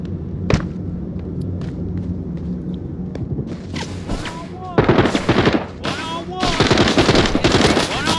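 Video game gunfire from automatic weapons, with bursts and single shots building into dense, loud volleys toward the end over a rumbling game backdrop.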